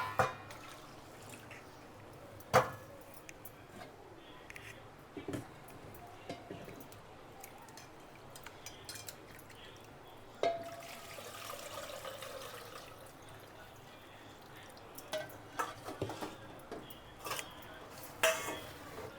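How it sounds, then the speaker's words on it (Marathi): Rice and lentils are swished and rinsed with water in a metal pot in a home kitchen, giving soft sloshing and drips punctuated by sharp clinks of the pot, close and intermittent. "आता तांदूळ आणि डाळ स्वच्छ धुवून टाकून देते"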